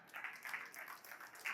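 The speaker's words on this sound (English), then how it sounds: "Well, thank you for clapping" A live audience claps at a talk, a brief spatter of applause heard faint and distant.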